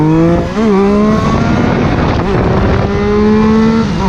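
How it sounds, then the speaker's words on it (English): Triumph inline-triple motorcycle engine revving with its characteristic whistle riding over the exhaust note, loud and close, the pitch rising and dipping as the throttle changes, with no talking. "if it's a Triumph, you get that nice whistle, which is a great accompaniment to the exhaust sound composition"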